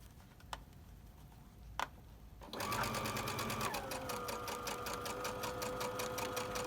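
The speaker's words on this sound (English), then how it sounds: "And once you sew onto it, back over, same kind of deal." Sewing machine stitching a surgical mask, starting after a couple of soft clicks and then running as a close, steady rapid ticking drone that continues without a break to the end, with no talking.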